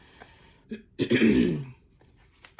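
A single rough, throaty cough or throat-clearing burst, close and fairly loud, with quieter breathy sounds before and after.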